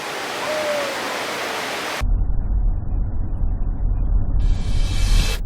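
Niagara Falls pours about 7,000 tonnes of water a second, heard as a steady broadband roar of falling water. Midway it shifts into a deeper, heavier rumble that continues without a break.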